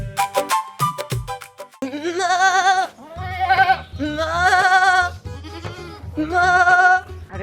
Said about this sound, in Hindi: वो बकरा मारिया को देखे, क्योंकि उस बकरे से बड़ी स्मेल आ रही है और इस तरह की आवाजें आ रही ह